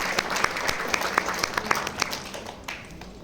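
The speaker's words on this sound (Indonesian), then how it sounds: "Tapi tepuk tangan lagi untuk Atomi." Audience at a business presentation claps in a moderate round of applause, individual sharp claps standing out before it tapers off.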